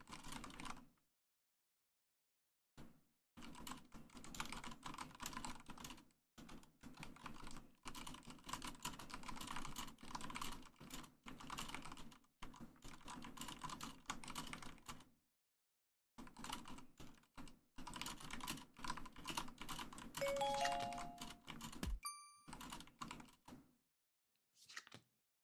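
Computer keyboard keys clatter in long, quiet runs of rapid clicks, broken by a few short silent pauses, with no talking.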